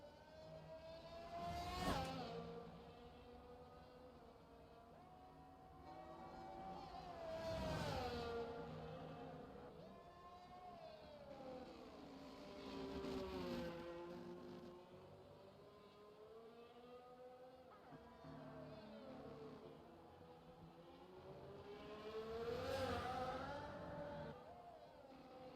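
A Mercedes Formula 1 car in the racing game F1 22, running on intermediate tires, whining through rising and falling revs with repeated gear-change swells over a long lap, steady and fairly quiet.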